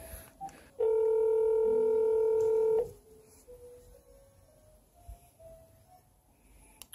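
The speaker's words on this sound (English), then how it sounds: "Now I'm going to try to call my cell phone using this" An OBi200 OBiTalk phone adapter set up with Google Voice plays a single steady dialing tone for about two seconds while it calls a cell phone. Quiet faint tones and room hiss follow.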